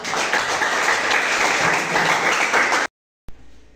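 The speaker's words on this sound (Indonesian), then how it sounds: "Dan kita kasih aplaus untuk kerja kita." Classroom applause during a practice teaching lesson at an Islamic senior school, a dense burst of many hands clapping at once that cuts off abruptly, followed by a brief faint sound.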